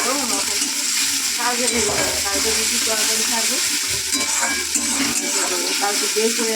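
Onions frying in hot oil in a pan, a steady loud sizzle with stirring scrapes running throughout.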